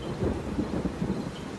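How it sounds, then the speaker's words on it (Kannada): Heavy rain pours outside, with a low rolling rumble of thunder, a dense, continuous wash of sound lasting only a moment. "ಆಚೆ ಇಷ್ಟೊಂದು ಜೋರಾಗಿ ಮಳೆ ಬರ್ತಾ ಇದೆ"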